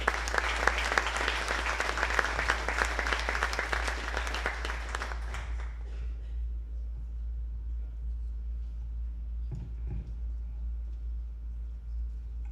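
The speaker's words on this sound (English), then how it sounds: "So give a round of applause for AJ." Audience applause at a high school winter sports awards ceremony: dense clapping rings out for about five seconds, then fades away, leaving a quiet room with a steady low hum and a few faint thumps.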